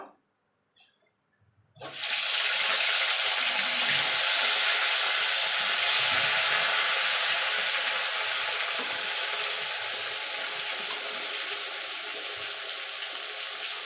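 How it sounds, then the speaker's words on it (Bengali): Eggplant pieces drop into hot oil after a quiet moment, bursting into a loud, steady, broadband sizzle that holds strong and close for the rest of the time, with no voices. "এবার বেগুনগুলো ভেজে নেব।"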